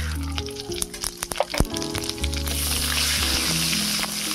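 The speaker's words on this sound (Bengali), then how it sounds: "ফোড়নটাকে একটু ভেজে নিলাম" Whole spices — bay leaves, dried red chillies, whole garam masala, nigella, fennel and cumin — sizzle and crackle in hot oil for a Bengali potol korma tempering, with scattered pops early on settling into a steady, close frying hiss.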